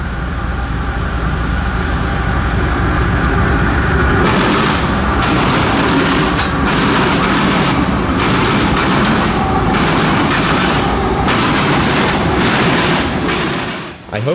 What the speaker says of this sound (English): the Florida Midland Railroad tiptoeing through the citrus groves